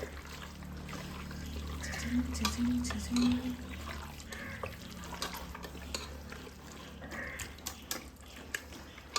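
Water trickles and pours steadily into a pot of mutton curry nearby, with faint clinks and a low background hum throughout.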